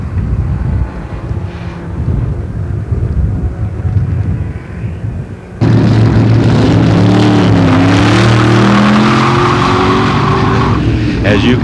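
Shelby Mustang race cars roar off at the start of a race, engines suddenly surging loud and revving after a quieter stretch with voices talking over a distant rumble.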